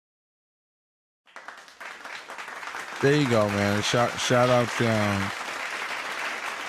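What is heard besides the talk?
audience clapping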